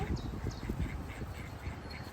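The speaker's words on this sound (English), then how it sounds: "Killer ducks. They're guarding the territory." Ducks guarding their territory quack in a series of short, rough calls, faint and somewhat distant, over low rumbling background noise with no talking.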